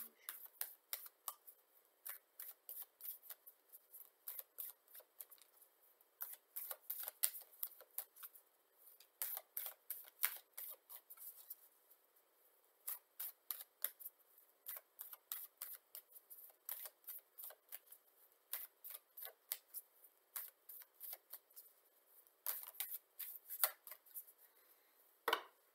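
Tarot cards being shuffled by hand, rapid crisp riffling bursts repeated in clusters with brief pauses between, quiet and close.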